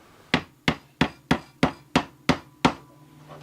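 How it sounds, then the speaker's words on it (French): Eight sharp, evenly spaced hammer blows drive nails into a wooden board for a simple DIY tray, each strike a crisp close knock with a short ringing decay. "on va mettre tout le reste de clous"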